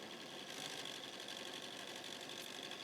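Sewing machine running steadily as it stitches a quilt square, a continuous quiet mechanical whir with a faint rhythmic buzz, close and unbroken, no voices.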